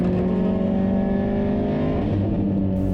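A race car at Hampton Downs on a Superlap time-attack run, driven hard through a fast sweeper: a loud, sustained engine roar that holds steady and then drops in pitch.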